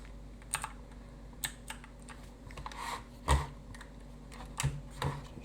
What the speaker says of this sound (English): Just readjusting my keyboard a minute.